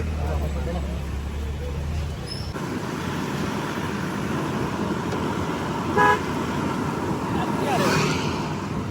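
Busy road traffic rumbles steadily, with a couple of short car horn toots cutting through near the middle and end, voices faintly underneath.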